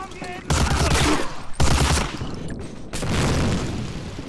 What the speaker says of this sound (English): These guys are shooting through the wall.